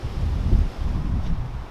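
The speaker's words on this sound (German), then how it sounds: "Etwas windig gerade, aber Wetter ist immer schön." Wind gusting outdoors at a hilltop tree-circle park in Vienna, a low rumbling buffet across the microphone, steady and fairly loud with slight surges.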